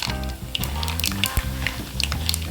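Mustard seeds, chana dal and peanuts fry in hot oil for tamarind rice, giving a steady loud sizzle with crackling pops, under a low background hum.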